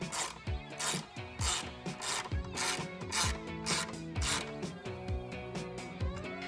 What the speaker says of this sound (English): with your 4mm Allen key or Allen socket, tighten this down.